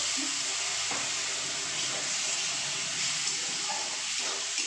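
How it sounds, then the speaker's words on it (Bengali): A little water is poured into a salted spice mixture in a hot pan while cooking chicken curry, producing a steady hiss and sizzle throughout with no talking. "মশলাটায় অল্প একটু জল দেবো যাতে পুড়ে না যায়"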